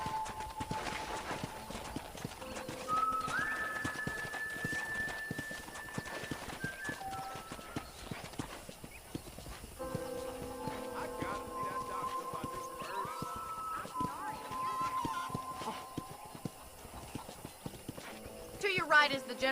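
Horse hooves clip-clop steadily at a ranch in the PS3 game Red Dead Redemption, a continuous riding rhythm with in-game music tones and some voices throughout.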